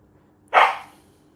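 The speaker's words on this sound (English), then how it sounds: "My dog is barking." One short, abrupt bark from a pet dog nearby, loud at onset and fading within a fraction of a second against near silence, no voices present.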